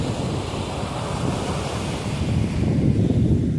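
Sea wind and surf at Kattankudi beach, a steady roar of waves with gusting wind buffeting the microphone, loud and close, swelling stronger toward the end with no voices.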